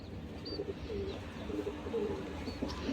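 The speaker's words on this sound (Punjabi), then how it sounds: "ਇੱਕ ਕਬੂਤਰ ਤੇ ਕਬੂਤਰੀ ਇਹਦੇ ਨਾਲ ਲੈ ਕੇ ਆਂਦੀ" Soft pigeon coos repeat a few times over a steady low background hum, moderately close, with a brief higher chirp now and then.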